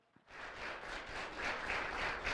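An audience at a high school mock trial competition breaks into applause after a brief pause, a sustained, loud wash of clapping that holds steady and swells slightly toward the end.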